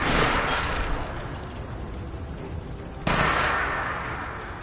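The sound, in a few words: automatic gunfire in video game Fallout 4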